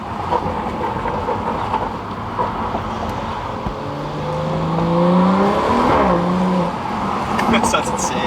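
A BMW M235i with a catless VRSF N55 downpipe roars as it accelerates past, its exhaust note swelling loud and raspy over steady road noise, with a rising whine near the peak before easing off.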